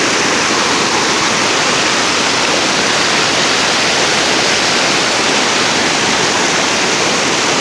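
Nantahala River water rushes over rocks in a loud, dense, unbroken roar, close by and steady from start to finish with no voices.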